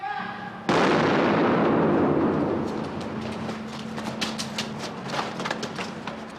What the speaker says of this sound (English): On hearing that last gunshot,